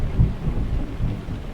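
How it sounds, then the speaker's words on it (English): A low, rolling thunder rumble during a rainstorm in Euro Truck Simulator 2, brief and heavy, with a steady wash of rain underneath. "Oh, thunder as well."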